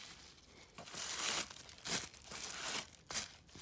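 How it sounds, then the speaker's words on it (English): Pandora tissue paper is unwrapped from a jewelry package, crinkling and rustling close up in several bursts without talk. "I see Pandora tissue paper. Lots and lots of Pandora tissue paper."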